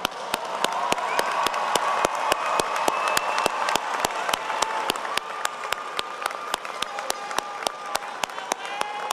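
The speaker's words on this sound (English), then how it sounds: "let's give them all one round of applause." Sustained applause from a large audience at a university commencement ceremony, dense clapping with a few sharper claps standing out, continuing without a break.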